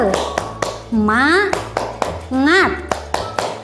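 Children in a classroom clap a rhythmic 'tepuk semangat' cheer, sharp, close hand taps in a patterned beat, broken twice by short chanted shouts from the group.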